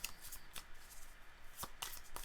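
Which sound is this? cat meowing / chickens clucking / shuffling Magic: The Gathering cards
shuffling Magic: The Gathering cards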